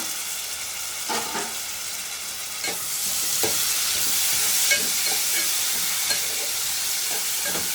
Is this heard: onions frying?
yes